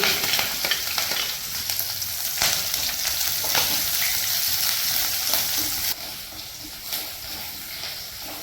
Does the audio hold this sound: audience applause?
no